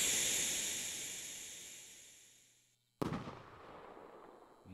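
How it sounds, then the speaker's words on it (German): Firework rocket launching in a fireworks simulator game: a bright hissing whoosh fades away over a few seconds, then a sudden sharp bang followed by crackling fizz, with another pop at the end. "Ja, ist eine normale Rakete."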